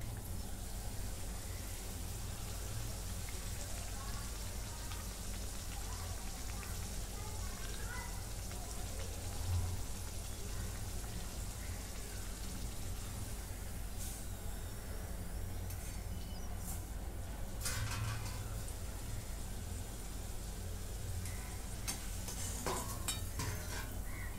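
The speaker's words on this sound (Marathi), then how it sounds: "मध्यम गॅसवरती तळून घ्या." Pumpkin gharge fritters fry in oil on medium heat, giving a soft, steady hiss of bubbling oil throughout, with a few faint clicks and taps near the end.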